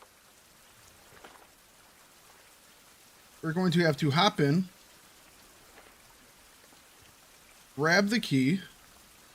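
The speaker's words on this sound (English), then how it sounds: "It's raining, so it's still hard to see" Rain falls in a video game as a faint, steady hiss of drops behind the scene, broken twice by someone talking.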